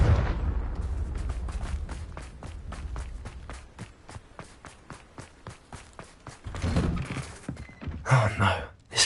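A Confringo fire spell blast in the video game Hogwarts Legacy: a steady run of rhythmic thumps, then crackling bursts and a loud fiery blast near the end.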